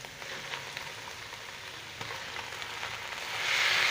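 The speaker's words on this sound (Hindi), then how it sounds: "चिकन को मैं अदरक लहसुन की पेस्ट के साथ भूनूंगा" Boneless chicken frying with ginger garlic paste in a clay handi: an even, close hiss of sizzling with faint crackles throughout, swelling a little louder in the final moments, no talking.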